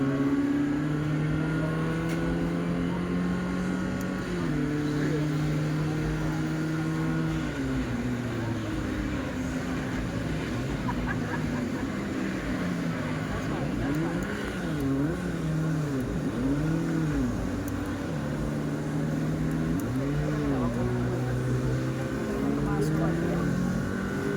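A car engine in a driving simulator game revs up and down repeatedly, its pitch climbing and dropping through gear shifts, loud and continuous, with voices mixed in underneath.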